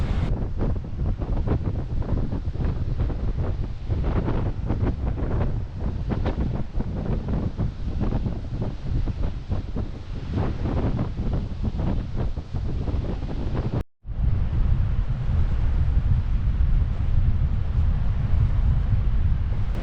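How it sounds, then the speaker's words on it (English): Steady, heavy wind roars across the microphone on a motoring sailboat heading into the wind on a Norwegian fjord, with a constant low rumble and rushing water beneath, briefly dropping out once. "we're motoring directly into wind again"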